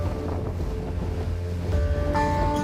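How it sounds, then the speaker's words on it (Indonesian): Longboat with an outboard motor crossing open sea waters off Kaimana, a steady motor drone mixed with wind buffeting and rushing water, with a higher whine rising near the end. "dengan menggunakan perahu longboat bermesin tempel melalui perairan Kaimana sekitar 2 jam menuju Kampung Lobo"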